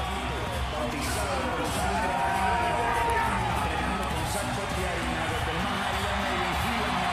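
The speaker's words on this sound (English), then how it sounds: "let the crowd welcome him into the arena." Boxing arena crowd at a super welterweight title fight, a steady loud roar of cheering and babble filling the whole stretch, with a commentator's voice running over the noise.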